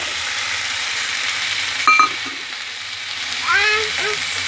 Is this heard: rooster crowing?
no